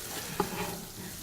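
Salmon searing on both sides in a hot pan, a brief steady sizzle with one sharp scrape or tap of a utensil early on, no talking.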